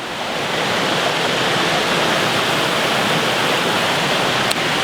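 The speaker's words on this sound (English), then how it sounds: "And there is the river." The Ballaglass River runs in a steady, full rush of flowing water, loud and close, holding an even broadband roar for the whole stretch with no voices.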